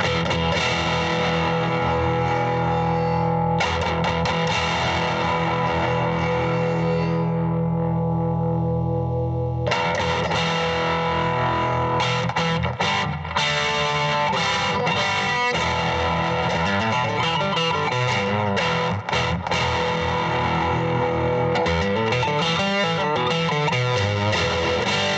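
Electric guitar played through a Blackstar HT-5 tube amp with the ISF tone control set around three, giving a loud, continuous distorted tone with sustained chords and busier picked passages and a touch of reverb.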